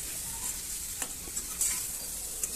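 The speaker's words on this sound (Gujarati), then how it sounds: "ત્યારબાદ આપણે એને બધી વસ્તુને સરખી રીતે આ રીતે મિક્સ કરી લેવાની છે" Tomato curry with garlic spice masala and spice powders being stirred in a pan, giving a soft, steady scraping and faint sizzle with a few brief clicks of the utensil, close and quiet, with no voices.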